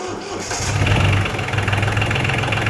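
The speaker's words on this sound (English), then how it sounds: "we will try to start the tractor and see if it is working again" An Iseki compact tractor engine cranks briefly and catches, then settles into a loud, close, steady diesel idle with a fast throbbing beat.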